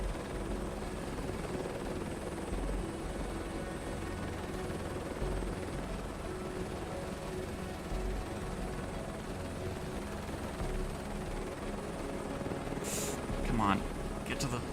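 Steady helicopter rotor and turbine drone during a helipad landing in Microsoft Flight Simulator 2024, a constant low hum with a few short higher beeps near the end, and a voice talks over it.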